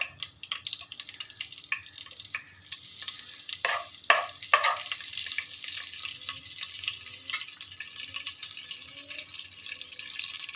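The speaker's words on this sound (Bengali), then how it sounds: "বাটার দিয়ে দিলাম তেলের মধ্যে।" Butter hisses in hot white cooking oil in a pan while making matar paneer, a soft, steady sizzle with a few brief clattery scrapes near the start, close and fairly quiet.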